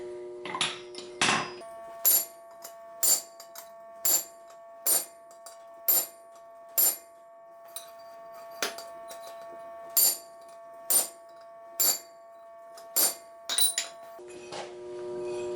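Hot steel being forged into a fork is hammered through on a soft plate, about fifteen sharp ringing strikes spaced roughly a second apart, each with a bright metallic ring that lingers, close and loud with no talk.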